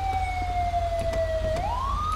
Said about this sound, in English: I'm gonna go turn off your siren